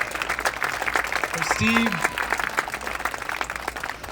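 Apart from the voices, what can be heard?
audience applause at youth hoop dance championship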